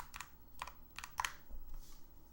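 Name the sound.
fast typing on a computer keyboard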